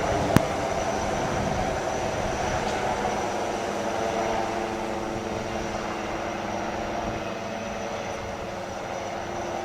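A military helicopter flies off with marine commandos hanging from its rope during a Navy Day display on the Visakhapatnam seafront. A loud, steady rotor and engine drone fills the whole stretch, with one sharp click near the start.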